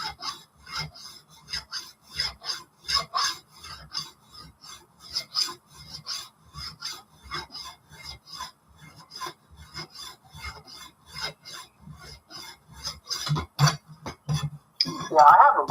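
A worn metal file rasps in steady rhythmic strokes, each pass a short, close, gritty scrape repeating through the whole stretch, with brief talking near the end.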